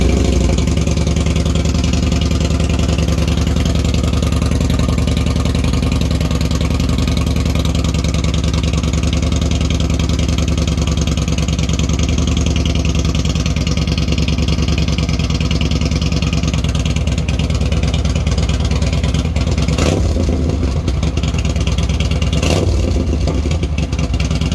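A Yamaha Bolt motorcycle with a Shorty GP aftermarket exhaust idles loudly and steadily, a deep throaty drone, with a couple of sharp revs near the end.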